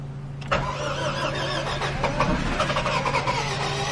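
A Honda Civic engine being cranked with the key, a steady low starter whir with a sharp onset, running continuously and fairly loud throughout with slight rhythmic pulsing.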